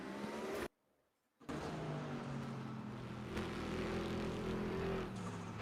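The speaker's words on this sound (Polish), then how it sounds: "to słychać, że gazu dodajesz" A race car engine in a racing video game at the Zandvoort circuit hums and revs steadily, dropping out for a moment near the start before resuming with a rising, whining tone.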